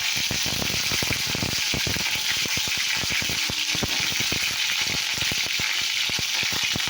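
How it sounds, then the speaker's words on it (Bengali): Cauliflower frying in hot oil in a pan: close, dense crackling and popping over a steady sizzle that continues throughout, with no speech. "দেখো ফুলকপিটা আবার ভেজে নেবো"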